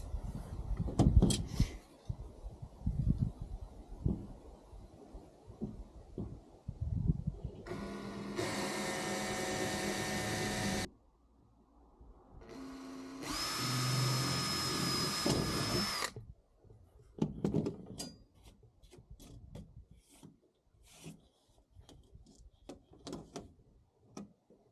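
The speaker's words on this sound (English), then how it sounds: "I've drilled all these holes now" A power drill bores mounting holes into a sail track, two sustained whirring bursts of several seconds each, close and loud, separated by a short pause, with clattering handling noises before and after.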